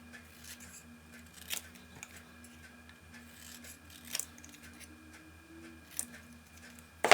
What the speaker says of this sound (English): And this I just snip out by hand.